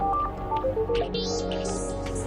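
A phone rings with an incoming call in a drama scene, its short melodic ringtone notes sounding clearly for about a second over a steady background bed.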